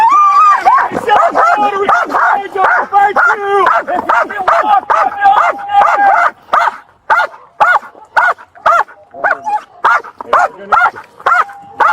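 A police dog barks in rapid, loud, close bursts, a long run of sharp repeated woofs and yips that keeps going, spacing out toward the end, with voices mixed in.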